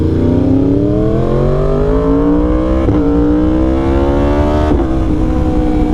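A Yamaha R1 motorcycle engine revving loud and close, holding a steady high drone while its pitch slowly climbs, with two brief blips where the throttle shifts.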